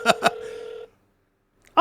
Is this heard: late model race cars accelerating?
no